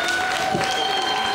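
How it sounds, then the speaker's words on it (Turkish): Audience at an outdoor concert in Alanya claps briefly as a singer is introduced, a short burst of applause under a presenter's voice. "Alkışlarınızla"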